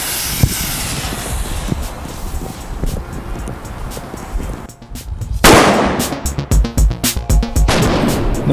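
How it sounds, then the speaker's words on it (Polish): A large class-two pyrotechnic firecracker goes off in a simulated held-in-hand accident, a loud sudden blast followed by crackling and rumbling after a stretch of background noise. "Zasymulujemy teraz zbyt długie przytrzymanie petardy w dłoni."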